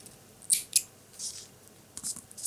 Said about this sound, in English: cut the tag end